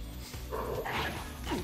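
A dog in the video game Persona 2 gives short yipping barks and whimpers, close and clear over a dense game soundtrack, with no talking.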